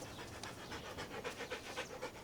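A dog pants quietly in a steady, rapid rhythm of short breaths, with no other sound over it.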